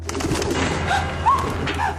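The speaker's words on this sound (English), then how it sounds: "she gets startled by a pigeon that enters the house" A pigeon inside a house gives a few soft coos and warbling calls over a steady low indoor hum, moderately close and fairly quiet.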